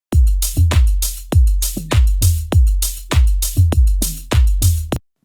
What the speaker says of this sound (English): I have a drum loop, which we're going to use today.